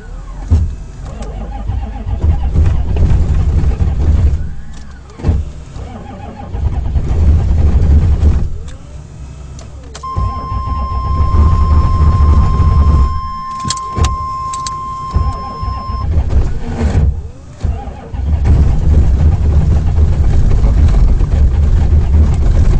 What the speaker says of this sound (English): This is the coldest start I've ever done with my diesel